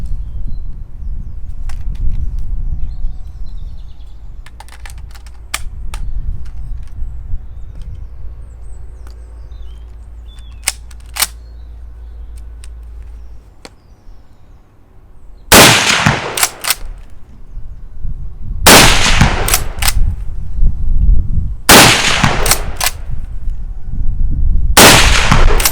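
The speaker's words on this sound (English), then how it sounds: "Okay, let's crack a few rounds off." A Merkel Helix Speedster rifle fires four loud, sharp shots spaced a few seconds apart outdoors, each followed by a brief decay. Quieter clicks and handling sounds come before the shots.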